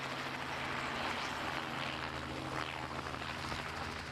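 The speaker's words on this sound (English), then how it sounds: "Now the helicopter ascends 2 metres as Philippe pays out more rope." A helicopter hovers and climbs slowly during an air-sea rescue display at an airshow, its engine and rotor giving a steady, dense drone that stays at an even, moderate level throughout.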